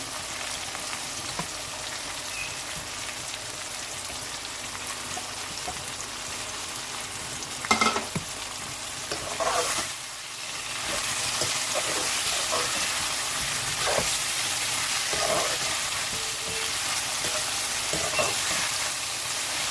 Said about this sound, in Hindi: अब हम इसमें चिकन डाल देंगे